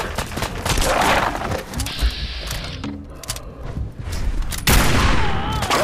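Gunshots in the video game Fallout 4, a few sharp loud blasts with a burst of firing near the start and another heavy shot toward the end, mixed with other game sounds.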